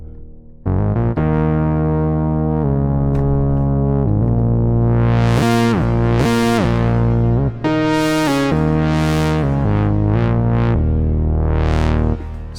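A loud, distorted Singularity Bass synth preset plays a sustained line with rich harmonics and sweeping filter swells, alone without any voices.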